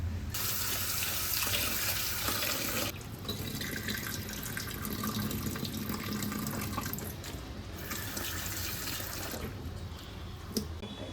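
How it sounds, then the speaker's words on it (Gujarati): Vegetables, muddy fenugreek greens, being dunked and swished in water in a kitchen sink, with a steady close wash of running and splashing water throughout, no talking. "એકદમ પાણીમાં ચબોડી ધોઈને પછી નાખવાનું"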